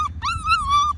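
A Schnoodle puppy whimpers in a yard, a short high whine followed by a longer wavering one, close and fairly loud over low background rumble.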